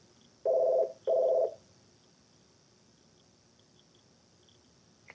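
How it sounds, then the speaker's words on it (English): A telephone rings twice in short, evenly spaced bursts that sound close and clear, followed by several seconds of near silence with a faint background hiss. "there's a phone going off"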